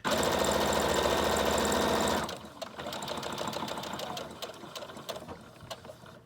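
A sewing machine stitches a junk journal, first in a loud continuous whirring run, then in slower, uneven bursts of mechanical clicking and rattling.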